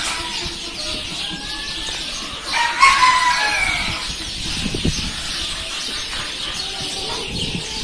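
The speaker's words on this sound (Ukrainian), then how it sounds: "тут дуже шумно, як на будь-якому пташиному дворі" Hunting pheasants, silver pheasants and other poultry call constantly in a busy bird yard in a park. Overlapping crowing, clucking and squawks sit over steady noisy ambience, with one louder call near the middle.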